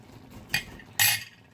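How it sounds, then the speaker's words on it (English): Wooden spoon stirring jambalaya in a pot, giving two distinct scraping, clattering strokes against the pot, the second louder and longer, over a quiet background. "Use my wooden spoon to stir that across."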